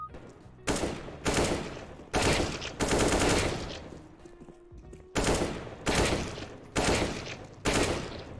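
Bursts of rapid automatic gunfire from a CS:GO pre-fire training course ring out in repeated short volleys, sharp and loud, separated by brief pauses.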